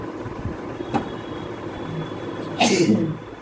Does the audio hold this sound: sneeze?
yes